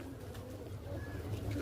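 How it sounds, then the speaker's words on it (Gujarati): Pigeons at a Khodiyar Mata temple give soft, low coos amid a continuous hum of outdoor background noise, over a very short stretch. "જુઓ તમે કબૂતર દેખ લો."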